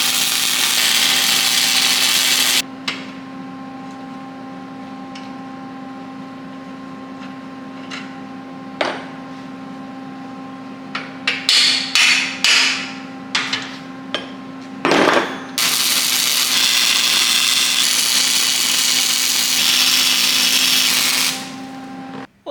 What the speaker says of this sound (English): we're going to have to drill another hole in this thing